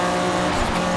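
A fast, player-built car races down an Australian road in Forza Horizon 3, its engine droning steadily with rising and falling pitch and a hint of tire squeal, loud and continuous throughout.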